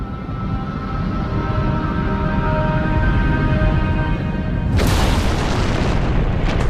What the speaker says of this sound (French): la collision entre ces masses rocheuses se solde par leur destruction pure et simple.